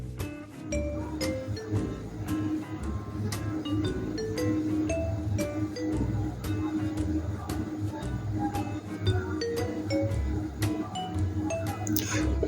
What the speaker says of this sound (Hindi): फिर बेसन सारा भिंडियां को लग वने।